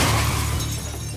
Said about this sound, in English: Rory smashed straight into the side of a lorry, crumpling the front of his van